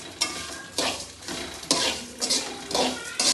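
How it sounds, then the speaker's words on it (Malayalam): Dry beans rattle and clatter as they are stirred in a hot pan during roasting, coming in repeated bursts, loud and close, with no talking. "അവർ നന്നായി ഇതാ വറുത്ത് നല്ല കിലുകിലുങ്ങുന്നുണ്ട്."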